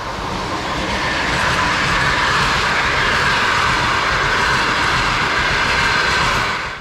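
Passenger trains on a Central Asian railway roll past at a station, a loud, continuous rumble and roar of wheels and carriages that swells and holds close by before easing off at the end.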